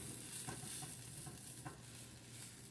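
Vegetables for fried rice frying and being stirred in a pan, a steady close sizzle with faint scraping stir strokes throughout, no talk.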